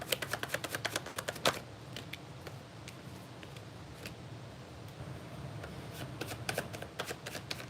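Tarot cards shuffled close by in quick riffling bursts at the start and again near the end, with softer card handling in between over a faint background hiss, no talking.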